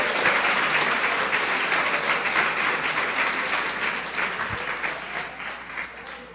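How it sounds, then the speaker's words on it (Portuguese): A church congregation breaks into sustained, dense applause that fills the room, loud at first and slowly tapering off, with no talking over it. "Dá uma salva de palmas ao Senhor."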